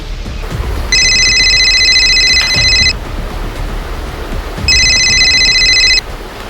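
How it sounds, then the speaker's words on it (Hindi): A telephone rings indoors in two loud, steady electronic bursts of about two seconds each, separated by a pause, with no talking over it. "तो रुक, मैं अभी फोन लगाती हूँ।"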